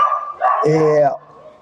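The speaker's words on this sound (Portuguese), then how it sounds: "desculpa o cachorro aí latindo aí, galera" A dog barks outdoors, a single loud bark trailing into a whine, heard close under someone talking in Portuguese.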